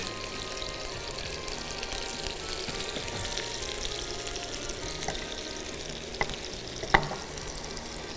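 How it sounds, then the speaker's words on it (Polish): Food fries in a pan with a steady, soft sizzle throughout, moderately faint, with a couple of small clinks near the end and no talk. "I smażymy."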